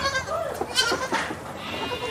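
Young goat kids bleat several times close by during bottle-feeding on a small farm pen, their thin wavering cries overlapping with quieter background voices.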